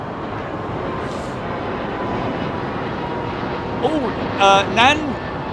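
A jumbo jet at Heathrow Airport, a steady broad engine roar with a faint rising whine, heard from a distance while a voice briefly exclaims near the end.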